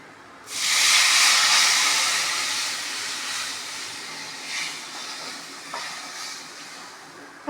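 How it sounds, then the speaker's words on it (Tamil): Tamarind water poured into a hot pan for ginger tamarind curry with turmeric and chili powder bursts into a loud hissing sizzle that slowly settles into a softer steady bubble, with a small clink near the end. "கரைச்ச புளி ஊற்றினோம், அது கொதிக்க ஆரம்பிச்சிருச்சு."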